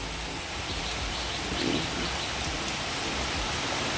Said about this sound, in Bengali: এই দেখো বৃষ্টি পড়ছে, ঝিরিঝিরি বৃষ্টি পড়ছে